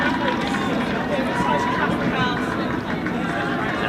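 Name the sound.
crowd cheering wildly at a quadball match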